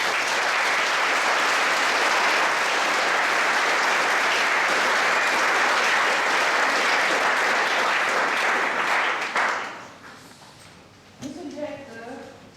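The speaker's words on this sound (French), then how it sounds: "j'aimerais encourager ceux qui viendront par la suite au sein de cette cérémonie par vos applaudissements encore une fois." An audience at a school promotion ceremony claps loudly and steadily for several seconds, then the applause fades out and a voice begins speaking over the quieted room.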